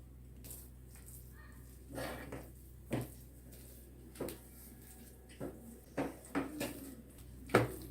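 A spoon stirs melting jaggery in a pan, with soft intermittent scrapes and knocks against the pan at an uneven rhythm, close and quiet.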